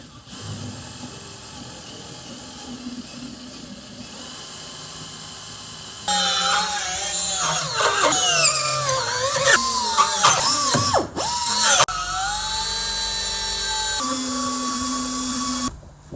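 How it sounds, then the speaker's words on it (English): A drill whines in several bursts while boring door hinge holes on a Sling High Wing aircraft kit, its pitch rising and falling as it bites, following a quieter stretch of low hiss. "but I think just drilling."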